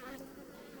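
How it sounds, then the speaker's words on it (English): Honey bees hum loudly inside an opened brood chamber of a hive, a close, dense buzzing that swells and wavers continuously through the short moment. "Look at the bees in there"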